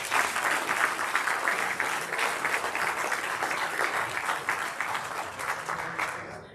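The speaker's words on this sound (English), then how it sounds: "So let's give them another round of applause." An audience at a youth futsal welcome meeting breaks into sustained applause, a dense, even wash of clapping that lasts several seconds before tapering off at the end.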